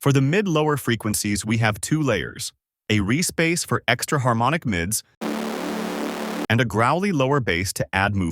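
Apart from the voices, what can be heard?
No everyday noise stands out behind the speech.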